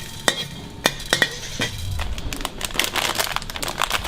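Coriander seeds dry roast in a metal pan on a street food cart, with sharp clinks and scrapes of a utensil early on, then a continuous light rustling patter of seeds being stirred.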